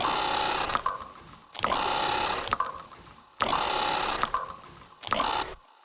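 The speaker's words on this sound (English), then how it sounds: "So here's a lot of delay." A sample-built alarm sound drenched in heavy delay, repeating in bursts about every second and a half, with echoing tails trailing off between hits, played alone with no talking.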